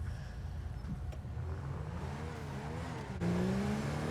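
A heavy, oversized SUV in GTA 5 revs its engine steadily, the note climbing in pitch and swelling louder near the end, with some tire noise in a continuous game mix.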